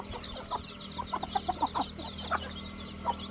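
Several chickens cluck softly in short, irregular bursts nearby in a poultry shed, over a low steady background hum.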